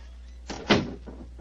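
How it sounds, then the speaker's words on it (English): A door closes with a soft thud and brief clunk of the latch, fairly close but muted, over a low steady hum in an old stone building. "Please close the door behind us."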